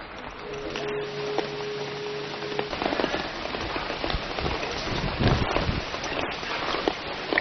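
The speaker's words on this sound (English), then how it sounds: "I've managed to find myself a relatively dry spot as it's just started raining" Steady rain falls at a temple, a dense continuous patter on surfaces with some wind rumble, heard close and fairly loud throughout with no talk.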